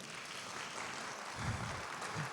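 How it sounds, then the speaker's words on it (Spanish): Audience applause for a doctor introduced at a talk, a brief dense burst of clapping filling the whole short stretch at moderate, even loudness. "El doctor Jesús Abraham Simón Campos, por favor, un aplauso para el doctor."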